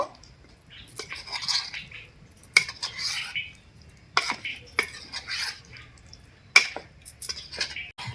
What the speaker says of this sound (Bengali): এগুলো আমি এই ব্যাটারের মধ্যে দিয়ে দেব এরপর ভালো করে কিন্তু মিশিয়ে নেব